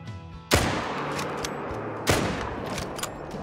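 Two loud rifle shots at a red deer in theHunter: Call of the Wild, spaced about a second and a half apart, each a sharp crack followed by a long rolling echo.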